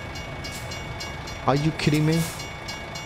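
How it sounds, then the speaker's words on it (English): A train horn in the American Truck Simulator game sounds two loud, close blasts over a steady rumble as the train passes, while a man exclaims over it. "I just passed and the train just came."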